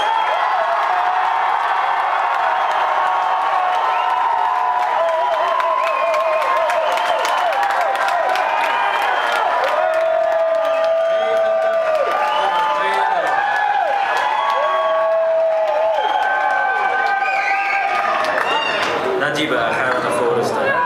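A crowd at a poetry slam in Utrecht cheering, shouting and applauding for a poet, loud and continuous with whoops and clapping rising over a bright, busy hall, thinning slightly near the end.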